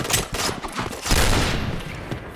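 Bursts of rapid gunfire from a first-person shooter video game crackle loudly and close in quick volleys over a dense, noisy background.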